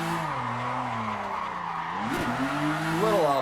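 A Toyota Supra drifting in the Assetto Corsa racing game on a Thrustmaster wheel, its engine droning steadily with rising and falling pitch under continuous tire squeal and skidding noise, loud and close throughout.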